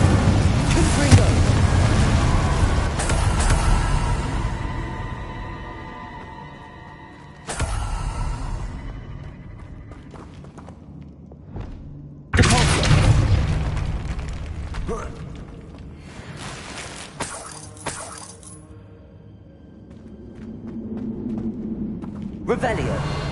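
In the Hogwarts Legacy video game, a Confringo spell sets off booming explosions with rumbling decays amid game sound effects, while a voice talks over it.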